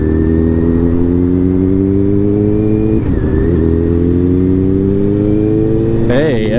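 KTM motorcycle passing close by with a loud revving engine, a sustained droning tone that dips and then climbs sharply as the throttle opens near the end.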